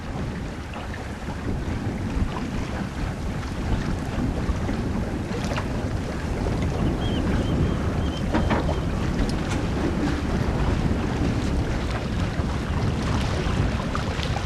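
Sailboat Mingming II on sea trials moving fast through open water, with steady broadband rush of water along the hull and wind buffeting the microphone throughout, occasional sharper splashes, no voices.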